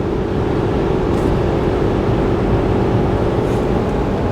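A RAM 3500 HO Cummins diesel pickup towing a big fifth-wheel trailer at highway speed gives a steady, deep, semi-like drone with road roar inside the cab; no one speaks.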